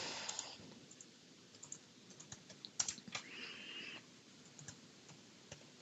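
Soft, sparse keystrokes tap out a query on a computer keyboard, irregular clicks in small bursts over a quiet room background.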